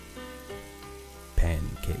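Bacon sizzles and crackles in a frying pan with a soft hissing spit, then rises into a sharper, louder burst of frying near the end.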